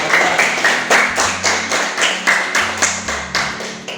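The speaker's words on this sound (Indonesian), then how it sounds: "Tepuk tangan buat Ananda Muhammad." Students clap together in a classroom after a classmate answers a question. The claps come in a quick, regular rhythmic pattern, loud and close, a few claps per second for about four seconds.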